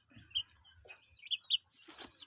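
Newly hatched chicks, including blue-faced game-fowl chicks, give a few short high-pitched chirps in quick bursts, close by, with soft background rustling and no speech.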